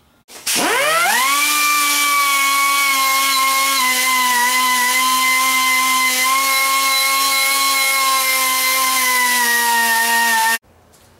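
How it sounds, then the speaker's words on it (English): An air-compressor-driven wire wheel spins up into a loud, steady, high whine while cleaning old paint off a piece of scrap metal, holding a constant pitch for about ten seconds before cutting off abruptly. "I'll take a wire wheel and I'll clean it up before I weld it in there"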